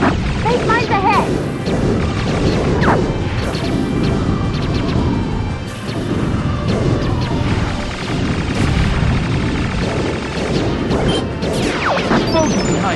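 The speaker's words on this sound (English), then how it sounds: "Explosion behind me." Explosions in the Star Fox 64 space shooter during the Venom air defense zone, loud crashing booms over dense game music and effects, with radio chatter from pilots heard throughout.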